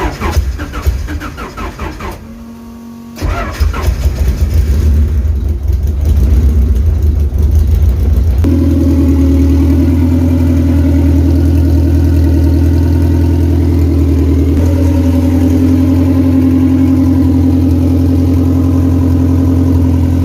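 A car engine on a dyno cranks and fires after a few seconds of rough sputtering, then settles into a loud, steady idle that runs close up and unbroken to the end.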